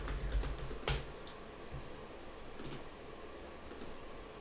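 Quiet typing on a computer keyboard: scattered soft key clicks in a couple of quick bursts over a low room hiss, with no voices.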